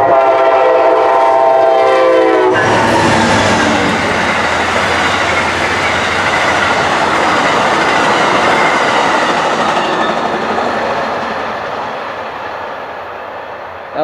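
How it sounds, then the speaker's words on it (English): Amtrak P091 passenger train speeding southbound through Carson, opening with a loud horn blast that gives way to a sustained, roaring rush of passing cars, fading slightly toward the end. "That was Amtrak PO-91. Flying south through Carson."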